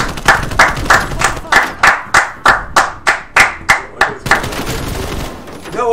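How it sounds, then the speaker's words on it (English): Rhythmic group clapping for Costa, a steady run of about a dozen loud, sharp, evenly spaced claps close by, tapering off at the end. "Let's all clap for Costa."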